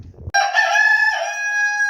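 A chicken of the Aseel breed gives a loud, drawn-out harmonic call close by, starting abruptly after a brief low rustle and holding steady for well over a second.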